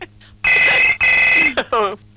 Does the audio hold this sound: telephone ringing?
yes